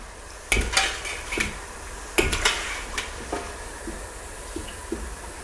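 Metal utensils scrape and clatter against a pot while fried purple sweet-potato quail eggs are scooped out of hot oil, several sharp clanks in irregular bursts over a faint background hiss.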